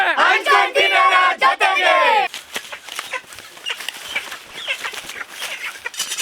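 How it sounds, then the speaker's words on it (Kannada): A chicken squawks loudly and excitedly up close, then settles into scattered clucks and rustling. "ಬಸು ಅಡ್ಡೆ ಕೋಳಿ ತಂದ"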